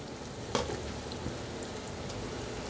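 Okra (bhindi) frying in a pan for a crispy dish, giving a steady low sizzle throughout with one brief sharp clatter near the start.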